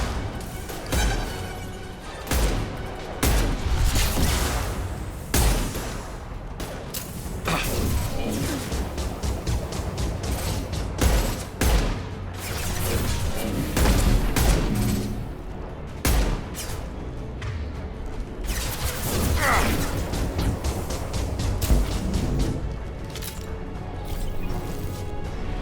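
Explosion and gunfire in the video game Mass Effect: repeated sharp crashing blasts and bursts of shots, loud and close, recurring throughout over a busy combat background.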